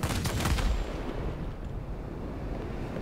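Cannon fire from a Ki-162-III warplane in World of Warplanes comes as a rapid, loud burst of shots at the start, then gives way to a steady engine and wind roar once the gun stops.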